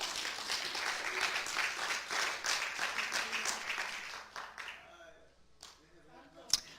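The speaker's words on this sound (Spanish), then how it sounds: "Dele un aplauso al Señor con todo el corazón" A church congregation applauds steadily for several seconds, the clapping thinning and fading out toward the end.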